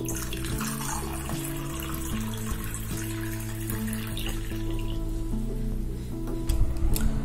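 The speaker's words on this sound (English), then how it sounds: "So I will take some drinking water in another glass." Drinking water pours steadily into a glass, a continuous close splashing and trickling under a low background hum, growing slightly louder toward the end; no voices.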